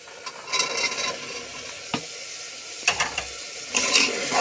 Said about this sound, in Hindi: अब मैं इसमें मटर और सोयाबीन डाल दूंगी